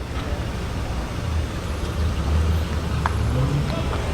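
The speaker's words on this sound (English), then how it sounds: "A whole bevy of BMWs pulling in." BMW E36 compacts and an E36 saloon roll into a classic car show, their engines a low rumble under general crowd and traffic noise that swells slightly as the cars pass close by.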